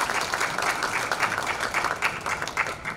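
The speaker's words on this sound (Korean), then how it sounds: "큰 박수 부탁드립니다" An audience at an indoor political meeting claps steadily for three seconds. The dense, continuous applause has a slight rise and fall and no voices over it.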